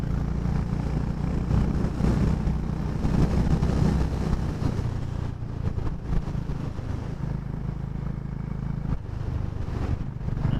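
A Honda H'ness CB350 anniversary edition motorcycle is ridden through Lonavala, its steady low engine drone running continuously under heavy wind rush on the microphone, with no voices.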